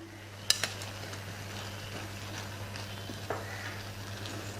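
A spoon scraping and stirring cooked vegetables mixed with grated coconut in a metal pot for Kerala avial, with a sharp clink near the start, another knock later, and soft scraping over a low steady hum.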